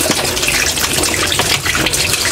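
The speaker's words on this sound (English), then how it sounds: "just rinse it out." Loud tap water gushes steadily while a washing machine lint filter from a Mika 8kg twin tub semi-automatic washer is rinsed, a close, continuous splashing rush with no talk.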